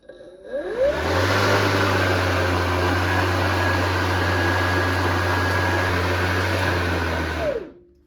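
A TITAN PLM4040B-CORE cordless brushless lawn mower spins up quickly, runs with a steady loud electric whir and motor hum for several seconds, then winds down fast, close by with no talking.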